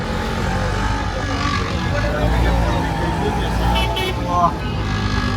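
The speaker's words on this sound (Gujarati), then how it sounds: "અમે પહોંચી ગયા છીએ મહેસાણા અને આ છે ત્યાંનું ટ્રાફિક જોરદાર" Heavy road traffic in Mehsana town, a steady dense rumble of cars and motorbikes passing close by, with a brief louder swell near the end and faint talk mixed in.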